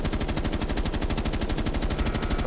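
Sustained automatic gunfire from Rainbow Six Siege aim training, a rapid, steady stream of loud, evenly spaced shots running unbroken through the whole stretch with no talking.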